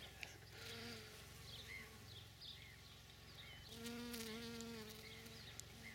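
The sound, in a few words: bees buzzing on blooming rosemary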